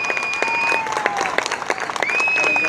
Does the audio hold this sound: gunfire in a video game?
no